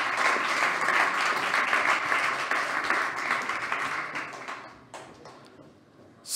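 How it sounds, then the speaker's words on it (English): Steady applause from an audience at a startup demo day awards ceremony honoring a winning team, dense and sustained before gradually thinning out and fading near the end. "Again, big applause for our team Fabrics."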